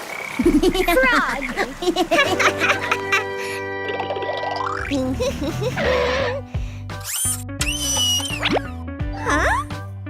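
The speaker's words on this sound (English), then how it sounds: "Frog." Cartoon frog croaking in a children's animation, a series of bouncy, springy croaks with plops and boings over a busy music bed, loud and close.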